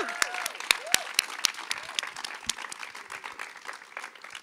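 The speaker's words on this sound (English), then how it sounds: "let's give a big round of applause for these incredible heroes" A graduation ceremony audience breaks into applause, with sharp individual claps scattered over a lively, fairly sparse patter and a few whoops or whistles rising above it.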